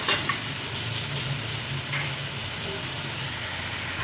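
Cumin and fenugreek sizzle steadily in hot oil for a village-style fish curry, a close, even frying hiss with faint stirring.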